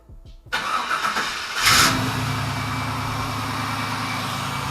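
Chevrolet Nova with an LS engine starts up after a few cranking bursts, then settles into a steady, loud, close idle that runs on alone.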